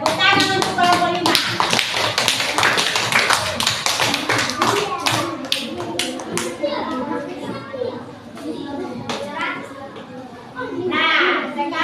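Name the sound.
classroom students clapping for a group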